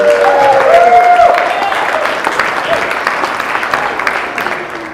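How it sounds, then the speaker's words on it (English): A crowd at a wedding reception applauds steadily, a dense wash of clapping that slowly fades, with a few voices calling out underneath. "one big round of applause for celebrating them tonight"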